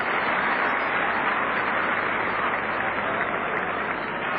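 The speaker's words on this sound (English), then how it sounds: "So more enthusiastic applause." Crowd applause at a cricket match, a continuous, even roar of clapping from a large distant crowd, sustained and uniform without breaks.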